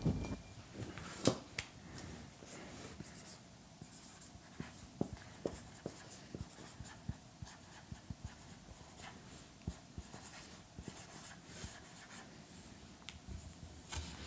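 A pen scratches out a handwritten answer on paper, faint and continuous with scattered small taps and scrapes in a quiet room.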